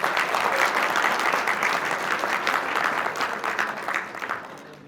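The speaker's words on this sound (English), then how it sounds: "Give them a big round of applause." Audience applause fills a convention hall at the sixth edition of Windsor Colors, a welcome event for new medical students. Dense, steady clapping from many hands holds close and loud throughout, then thins slightly toward the end.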